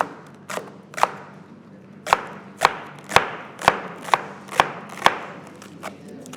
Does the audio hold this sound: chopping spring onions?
yes